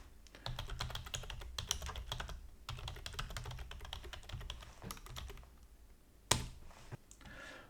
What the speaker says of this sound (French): en cliquant dedans, eh bien, je peux aller taper directement du texte.